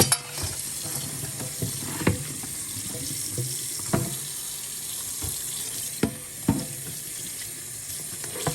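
Tap water runs steadily into a kitchen sink while a thawed, previously frozen turkey in its bag is rinsed and washed, with soft splashes and handling knocks over the continuous flow and no talking.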